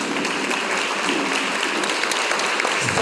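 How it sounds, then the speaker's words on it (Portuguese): A church congregation applauds during a sermon, a dense, even roar of clapping that holds steady throughout. "Pode aplaudir a palavra de Deus?"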